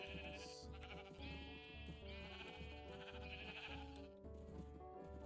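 Sheep bleat in Minecraft, several short wavering bleats repeating over a steady looping background tune, fairly quiet and with no voices.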